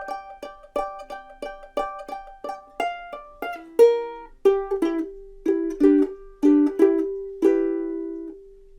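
Ukulele plays a blues lick, a fast run of repeated plucked notes that settles into a lower, ringing phrase of accented strokes, close, clean and unaccompanied.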